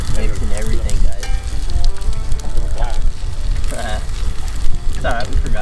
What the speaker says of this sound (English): Ed throwing the eggs on there.